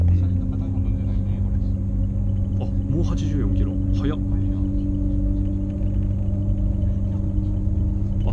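Shanghai maglev train running at speed, a steady low hum and rumble inside the cabin with no wheel clatter, heard continuously under people talking.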